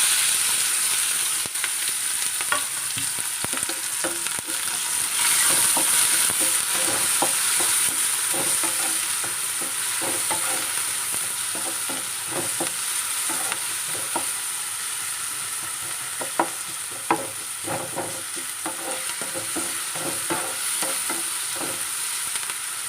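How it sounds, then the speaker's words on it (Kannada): Chopped tomato, onion and green chilli crackle in hot oil for a coastal-style sprouted bean palya, a steady close sizzle with scattered pops and intermittent spoon stirring throughout. "ನಾನು ಕಟ್ ಮಾಡಿ ಇಟ್ಕೊಂಡಿರೋಂಥ ಟೊಮೆಟೊ, ಈರುಳ್ಳಿ, ಹಸಿಮೆಣಸನ್ನು ಒಟ್ಟಿಗೆ ಹಾಕ್ಕೊಳ್ತೇನೆ."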